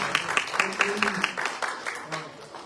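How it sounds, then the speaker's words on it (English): Audience at a town mayor and council meeting claps for children, a short burst of scattered applause with a voice murmuring underneath as it fades. "let's give these children another hand of applause"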